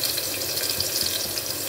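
Ginger, green chili and onion frying in hot oil for khichdi, giving a steady, even sizzle and crackle close by, with no talking.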